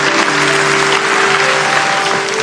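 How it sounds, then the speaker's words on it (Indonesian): A church congregation claps steadily throughout, a thick, even wash of applause with an organ or keyboard tone held underneath. "Kasih tepuk tangan untuk Tuhan."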